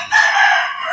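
A rooster crows once, close and loud, a single drawn-out call lasting about a second.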